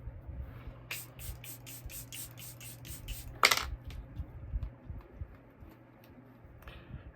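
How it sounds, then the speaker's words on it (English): Charlotte Tilbury makeup setting spray gives a rapid series of about eight short, crisp misting bursts, followed by a louder spritz, close and clear over quiet room tone. "I'm going to use the Charlotte Tilbury setting spray."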